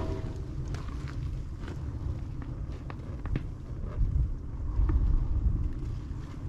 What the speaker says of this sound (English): Ooh, there's a nice breeze.